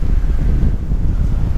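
Strong wind gusts roar steadily into the microphone at a lakeside campsite on a windy day with whitecaps on the lake, a loud, continuous low rumble with no voices.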